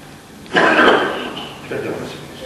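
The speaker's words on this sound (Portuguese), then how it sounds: "Não posso me empolgar que começa a tossir." A man preaching in Portuguese coughs and clears his throat, two rough bursts close to the microphone with a short pause between them.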